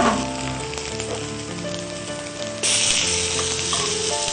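Tomato pieces fry in a pan with a dense, close sizzle that jumps louder partway through and continues steadily to the end.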